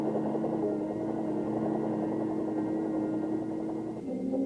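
Army helicopters fly in a steady, rumbling drone with a throbbing rotor pulse, holding constant and fairly loud before the tone shifts briefly near the end.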